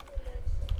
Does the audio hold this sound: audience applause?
no